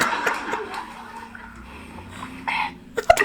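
Coconut water is sucked through a straw with soft wet gurgling and slurping, faint and intermittent, ending in a few louder bubbly pulls near the close, with a voice heard in the background.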